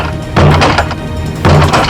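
Two heavy thuds of a basement door being forced open, each a loud impact with a short woody rumble, spaced about a second apart and close by.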